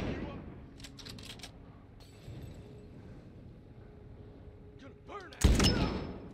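Gunfire in The Last Of Us: a few scattered sharp shots early, quieter stretches of rumbling action, then a loud close blast near the end, with a voice talking in places.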